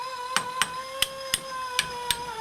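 A hammer knocks a leftover bit of material through a drilled hole while building a moonshine still: six sharp, ringing metal strikes at an uneven pace, close and clear with no talk.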